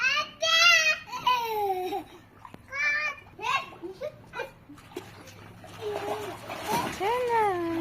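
Children splash in pool water, squealing and chattering excitedly, with bursts of splashing between their high voices.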